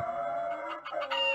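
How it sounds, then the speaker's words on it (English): Chicken clucking in the video game Fallout Origins, a few short clucks and squawks over a steady electronic game background hum, no talking. "Use the animal net to capture a chicken."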